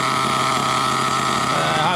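An HPI Trophy Truggy 4.6 nitro engine idling during break-in, a loud steady buzzing drone held throughout the short stretch, with talk likely mixed in.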